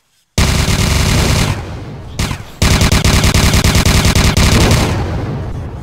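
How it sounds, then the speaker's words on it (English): Sustained rapid automatic gunfire in the VR shooter CyberThreat VR, loud and close, with a brief pause before the bursts resume and continue steadily. "What is shooting me?"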